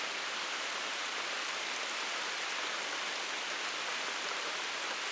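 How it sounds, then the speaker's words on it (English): Heavy, constant rain pours down steadily at an off-grid homestead, a dense unbroken hiss with no pauses and no voices, fairly soft in level. "Non-stop constant rain."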